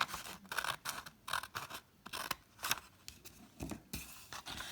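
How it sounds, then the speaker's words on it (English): Scissors cut through folded paper in short repeated snips, each a crisp close rustling crunch with brief pauses between, fairly quiet, with no talk. "you're going to want to make a cut just one length in"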